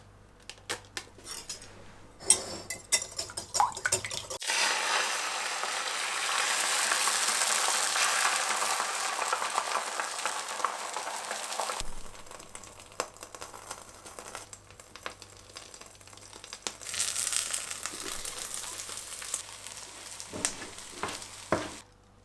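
Eggs fry in olive oil in a pan over medium heat, giving a sustained sizzle that swells and fades. Clinks and scrapes of a utensil and cookware come and go close by, with no talking.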